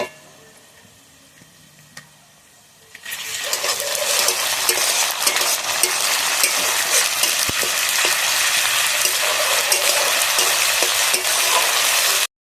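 Ginger-garlic paste hits hot oil in a pan for a Bengali katla fish-head muri ghonto, bursting into a loud, steady sizzle after a quiet start, with occasional scrapes of a spoon against the pan.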